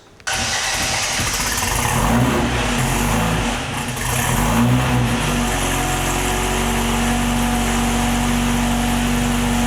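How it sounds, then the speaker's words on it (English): A 1950 MG TD with new spark plugs cranks and fires on a cold start, then settles into a steady, close, loud idle with a low rumble and occasional revs, no talking. "Not bad for a cold start."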